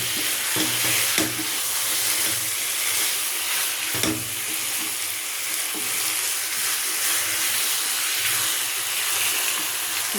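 Chicken frying in a pan with salt, chili powder and turmeric, a continuous close sizzle broken by occasional scraping strokes of a stirring spoon, with no voices.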